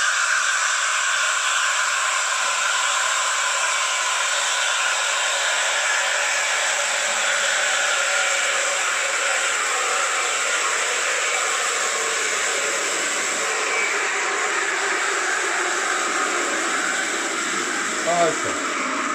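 A steady, loud hiss and whir of a dual-boiler spring-lever espresso machine's boiler heating water runs throughout, with a faint bubbling change near the end as the water nears boiling.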